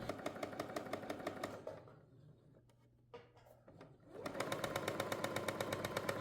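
A home sewing machine, a beginner's household model, runs with a fast steady mechanical rattle, falls quiet for about two seconds, then starts running again at the same pace.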